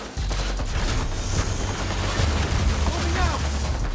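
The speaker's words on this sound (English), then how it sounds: "Guys are shooting at me, man." Dense, continuous bursts of rapid gunfire fill a shooter video game battle, loud and sustained with overlapping shots and a low rumbling background throughout.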